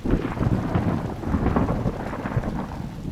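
A thunderstorm with steady heavy rain pours on, deep rumbling thunder rolling beneath the dense hiss of falling water across the whole stretch.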